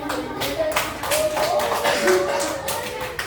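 Children clap together in a classroom in bursts of rhythmic clapping, fairly close, with children's voices mixed in.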